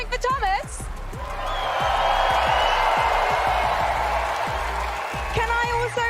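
A live arena audience at the Fortnite FNCS 2023 Grand Finals in Copenhagen cheers and roars in a sustained swell that builds after the first second and holds steady, with a voice speaking over it at the start and end.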